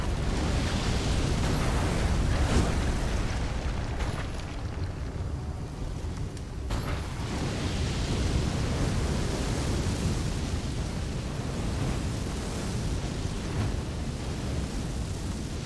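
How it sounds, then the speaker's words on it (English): Fireworks bursting during play in Elden Ring, a dense continuous roar of crackling, booming explosions sustained throughout with slight swells and dips in intensity. "I'll wait for the fireworks to die down."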